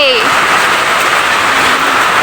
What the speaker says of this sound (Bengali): শুধু একবার দেখো কি বৃষ্টি পড়ছে